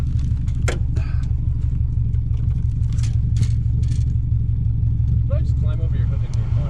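A car's engine idles low and steady while it backs up slowly toward another car's hood, a constant close rumble under ongoing talk.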